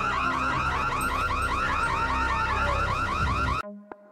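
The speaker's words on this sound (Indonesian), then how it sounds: "membunyikan alarm kebakaran" A loud electronic alarm wails in rapid repeating sweeps, blaring continuously before cutting off abruptly near the end.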